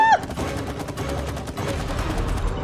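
Rapid gunfire from the co-op video game It Takes Two, a dense stream of shots running steadily under game noise, with a short high tone at the very start.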